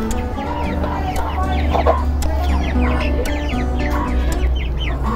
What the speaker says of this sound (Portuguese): Olha a galinha.